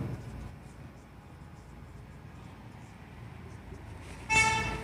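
A pen writes out a maths solution on paper, giving a faint, continuous scratchy scribble under steady background noise, with a brief horn-like tone sounding near the end.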